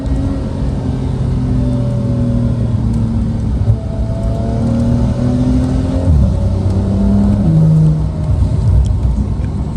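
Porsche 911 in Sport Plus mode downshifting, its exhaust droning loudly up close with pitch steps and a blip as the revs are held briefly, engine sound alone.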